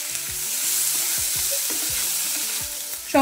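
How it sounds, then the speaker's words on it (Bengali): Capsicum fries in a pan with potato and carrot, making a loud, continuous close sizzle with a few stirring knocks over about three seconds. "আলু আর গাজরটাকে ভালো করে একটু ভেজে নিয়ে এবার আমি এর মধ্যে ক্যাপসিকামগুলো দিয়ে দিচ্ছি"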